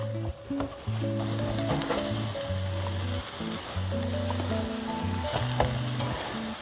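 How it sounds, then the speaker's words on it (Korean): King oyster mushrooms dry-frying in a hot pan with no oil over high heat, a steady close sizzle under soft background music, with occasional stirring scrapes. "새송이 버섯 기름 두르지 않은 상태로 처음엔 센 불로 해서 수분이 나올 때까지 조금 기다리세요"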